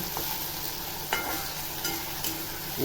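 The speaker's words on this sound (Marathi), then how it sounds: "डाळ टाकल्यावर पण चांगलं असं परतायचं" Soaked chana dal and green chillies being sautéed in a hot pan, a steady low sizzle with a few scraping spatula strokes, alone with no talk.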